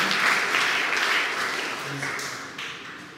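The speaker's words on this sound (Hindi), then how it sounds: "क्यों ना आप परमेश्वर के लिए जोरदार ताली बजाते हैं इस समय।" A church congregation at a Hindi Sunday evening service breaks into loud, sustained applause that starts strong and slowly fades over a few seconds, with a voice faintly underneath.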